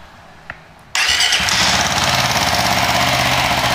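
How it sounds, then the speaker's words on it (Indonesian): A bore-up motorcycle fitted with a racing ECU bursts into life after a near-silent pause, then holds a loud, close, steady high idle with no voices. "setelah sudah kita coba nyalakan motor, kita nyalakan dulu"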